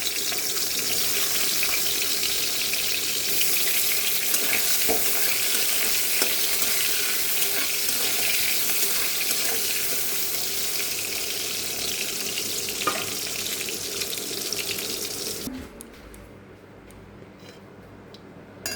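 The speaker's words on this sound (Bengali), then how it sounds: "বেগুনগুলো ভেজে আমি উঠিয়ে রেখে দেবো" Brinjal pieces frying in hot oil for a mustard hilsa dish, a steady loud sizzle and crackle that runs unbroken for about fifteen seconds and then suddenly drops to quiet background.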